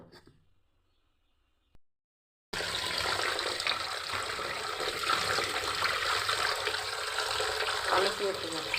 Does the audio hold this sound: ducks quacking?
no